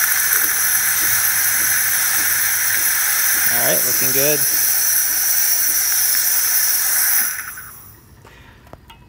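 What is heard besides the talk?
Saeco Intuita espresso machine pump releasing hot water and steam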